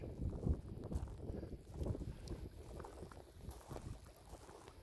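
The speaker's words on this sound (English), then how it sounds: "the wind is picking up" Wind gusts roar across an open boat on its first outing with a Minn-Kota Endura C2 30 side-mounted trolling motor, steady low rumbling buffeting of the microphone with water chop, no talking.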